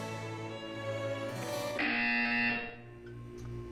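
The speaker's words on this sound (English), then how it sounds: "It is a quality buzzer tone." Portal 2 buzzer tone, a harsh electronic buzz that rises into a brighter, louder blare for about a second before cutting off, over steady background music, no voices.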